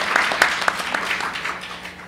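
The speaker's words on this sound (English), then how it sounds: "let's give Aaron Fox a round of applause" A short burst of audience applause at a legal symposium on defective drug and medical device design, moderately loud with scattered individual claps, heard on its own.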